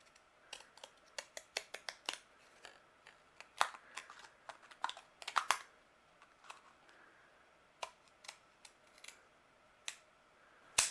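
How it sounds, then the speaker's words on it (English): Scissors snipping through paper to trim away a portion of a punch-art piece, a quick irregular run of sharp close cuts with short pauses, quiet and with no talk. "I'm actually going to cut away a portion of this that we're going to discard."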